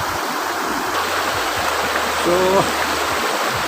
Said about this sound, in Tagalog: ang daloy ng tubig, napakabilis